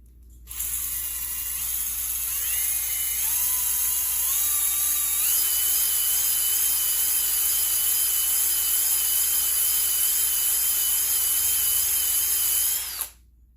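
A cylinder hone spins inside a Stihl 026 chainsaw cylinder with a high whining drill tone that steps up in pitch, then holds steady and loud before stopping abruptly.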